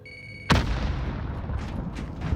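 A grenade detonates in the Call of Duty Warzone shooter, a single sharp close blast after a short quiet stretch of game ambience, followed by a rumbling decay and faint debris.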